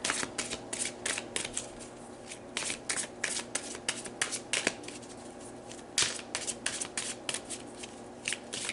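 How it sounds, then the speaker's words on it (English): Tarot cards being shuffled and pulled by hand, a steady run of close, crisp riffling bursts and papery slaps repeating in quick rhythm throughout. "So let's pull some cards"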